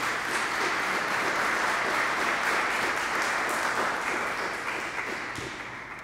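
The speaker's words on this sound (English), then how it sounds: "give them a special round of applause" Sustained applause from a sizeable crowd at a community meeting, dense and even, gradually tapering slightly toward the end.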